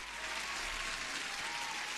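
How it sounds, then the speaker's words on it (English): Applause played as a sound effect during a live stream: a steady, dense wash of clapping and crowd noise, even and continuous throughout, with no voices over it. "you guys deserve an applause"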